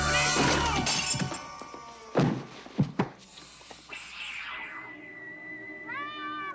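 A cat meows with a clear, drawn-out harmonic cry near the end. Earlier there is a burst of shattering glass and several sharp knocks and thuds.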